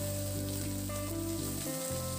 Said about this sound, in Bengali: রসুনটা দিয়ে দিয়েছি এই গরম তেলের মধ্যে। এবার রসুনটা দিয়ে একটু নাড়াচাড়া করে ভেজে নেব।